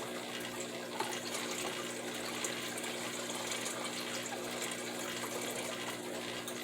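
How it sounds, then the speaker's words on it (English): Green water is poured into a Daphnia culture, making a steady, faint, trickling gush that runs without a break. Small splashes stand out now and then, and nobody speaks. "here I'm going to show you next the addition of the green water"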